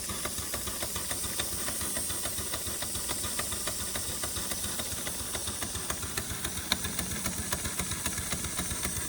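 A large authentic mill steam engine runs on steam, hissing steadily with a fast, regular mechanical beat of chuffs and knocks throughout, fairly close and continuous, with no talk.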